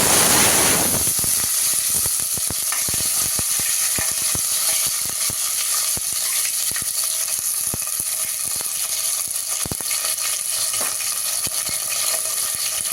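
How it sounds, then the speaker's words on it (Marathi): Sliced onion dropped into hot oil with whole spices (bay leaf, cinnamon, cloves, peppercorns) for onion pulao, giving a steady, close sizzle with scattered stirring clicks and scrapes throughout. "त्यामध्येच आता हा कांदा घालायचा"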